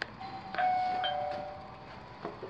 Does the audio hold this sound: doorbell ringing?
yes